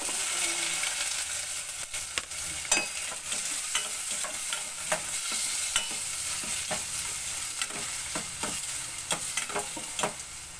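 Onion, garlic and tomato sizzle and fry steadily in a smoking-hot pan, with repeated stirring clicks and scrapes of a utensil against the pan throughout.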